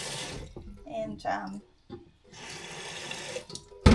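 Tap water running at a farm shed, drawn from a 180-metre-deep artesian aquifer, flows in bursts of broadband rushing between moments of speech, ending with a loud close clatter.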